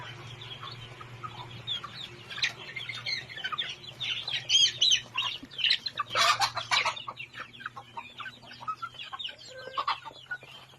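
A flock of organically raised farm chickens clucking in a rural yard, a steady chorus of overlapping clucks and squawks that swells louder in the middle over a low background hum.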